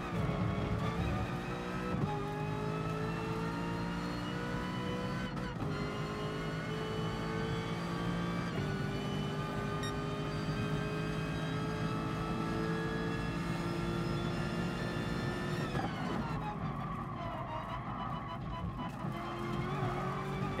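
A race car engine in Gran Turismo Sport howls steadily at high revs, its pitch climbing through the gears with a brief drop partway, loud and continuous, with no one talking.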